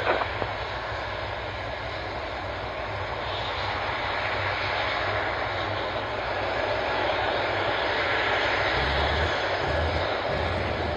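An aircraft at the RAF Waddington airshow roars steadily through its takeoff run, a broad, sustained engine noise heard from a distance with no talk over it.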